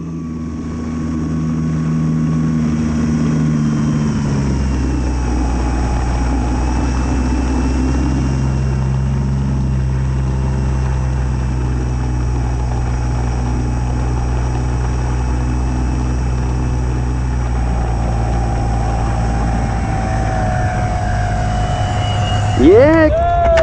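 The five electric motors of a scratch-built RC plane whine together in a steady, close drone that rises in pitch and holds for a long stretch, ending with a brief surge.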